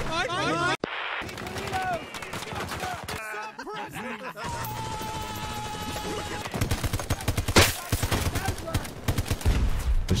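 Video game gunfire crackles in rapid bursts and volleys, loud and near, with a brief gap of quiet, while players talk excitedly over the shooting.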